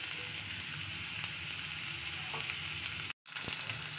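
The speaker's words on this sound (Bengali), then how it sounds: "তো চলুন দিয়ে দিচ্ছি আলুর টুকরোকে।" Potato pieces fry in a pan over pressed rice, giving a steady, soft sizzle with a few faint clicks, briefly broken by a short gap of silence near the end.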